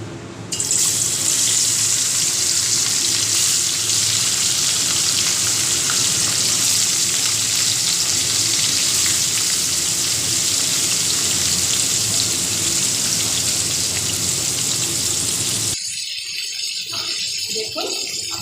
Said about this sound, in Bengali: এবার মাছগুলোকে লাল লাল করে ভেজে নিই।